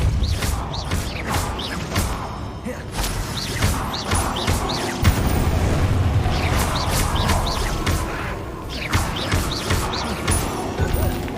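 Spell effects in Hogwarts Legacy come as a busy run of magical whooshes, crashes and thuds. Bursts and impacts repeat over a dense, loud game backdrop, with a voice faintly underneath.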